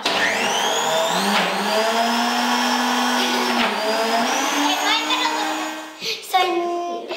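A kitchen blender whirs steadily through a slushy fruit mixture, a loud continuous motor drone with shifting pitch as the load changes, dipping briefly near the end before spinning on.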